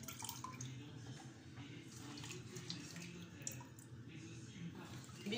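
Dried mbinzo caterpillars lifted out of washing water, giving steady splashing and trickling with faint drips in a sink-like setting, close and quiet throughout.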